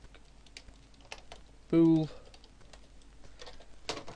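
Faint clicks from a computer keyboard being typed on while coding in Unity3D, running steadily under a brief burst of nearby talk.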